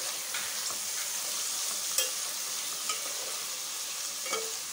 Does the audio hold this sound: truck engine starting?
no